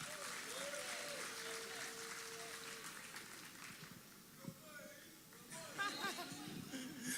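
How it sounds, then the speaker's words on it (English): Quiet applause and some chuckling from an audience at a national youth conference, faint and scattered, with voices and laughter mixed in and a brief louder burst near the end. "Let's welcome him with a round of applause."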